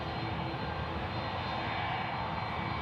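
A Jetstar Airbus A320 jet on night approach to Sydney Airport gives a steady, sustained engine roar from some distance, even in level with no talk over it.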